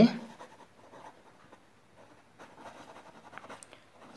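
Chalk or marker scratching across a board during a lesson, a soft, uneven scrape close by with brief strokes and pauses, and no talk over it.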